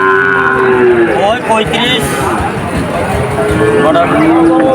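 Calves and cattle at a busy cattle market near Jessore, mooing repeatedly up close over constant crowd babble and shuffling.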